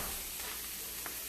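Chopped tomatoes sizzle in a pan while a spoon stirs them, making a steady, close hiss with a few soft scraping touches.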